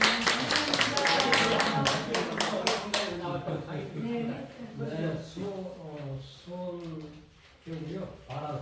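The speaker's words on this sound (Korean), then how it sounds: "박수" A meeting audience claps in a short burst at the start, a few seconds of brisk applause that stops abruptly, after which people talk over a quiet room.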